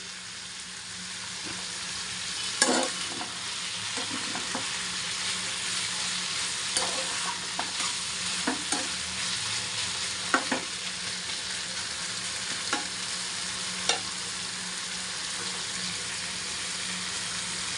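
Taro stolons and prawns in a curry being stirred in a pan, under a steady, loud frying sizzle, with a scattering of soft spoon scrapes and knocks against the pan from close by.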